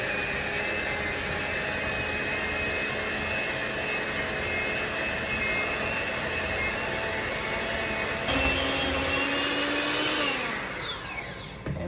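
An electric mixer beats brown sugar into sweet potato pie filling, a steady loud high whine that holds evenly, shifts pitch partway through, then winds down at the end.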